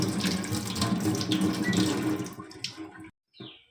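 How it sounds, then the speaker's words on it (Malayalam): Tap water runs steadily over a tea strainer being rinsed, a close, continuous splashing stream that cuts off near the end, followed by a short drip and splash. "സാധാരണ പൈപ്പ് വെള്ളത്തിൽ ജസ്റ്റ് നമ്മളിതൊന്ന് കഴുകി"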